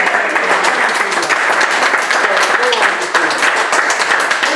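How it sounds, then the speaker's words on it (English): A dense, steady round of applause from a gallery crowd fills the whole stretch, loud and close, with voices faintly mixed in beneath the clapping. "How about a round of applause?"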